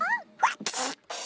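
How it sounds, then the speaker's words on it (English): A cartoon character from In the Night Garden sneezes: a short rising vocal wind-up followed by breathy, noisy bursts, close and clear with no other sound. "What a sneezy dance."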